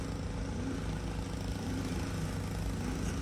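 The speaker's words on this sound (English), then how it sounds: "Look at that, someone is revving the thing up." A car engine runs and revs at an auto auction lot, a steady mid-distance motor drone with low rumble holding through the whole stretch, no voices.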